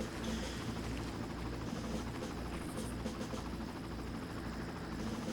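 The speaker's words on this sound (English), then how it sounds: "So we're going to get the helicopter alerted to our position" Helicopter in the video game Far Cry 1, a loud, continuous rotor thrum and engine drone filling the whole clip at steady level, no speech.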